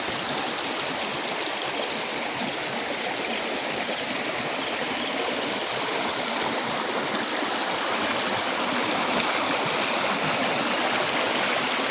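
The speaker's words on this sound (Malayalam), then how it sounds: "ഇതെങ്ങനെ നീർച്ചാല് ഒലിച്ചു വരുന്നതാണ് കാണുന്നത്" Small stream of water trickling and running down a slope near Choriyankunnu waterfalls, a steady, dense rushing wash that stays even and close throughout with no voices.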